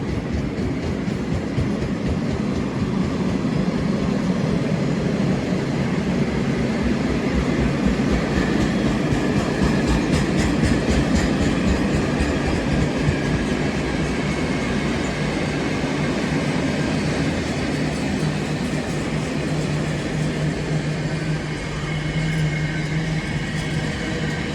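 A DRS class 66 freight locomotive, 66430, hauling car-carrier wagons and vans, rolls through Rugby station with a loud, continuous rumble and rhythmic wheel clatter that stays steady for the whole pass.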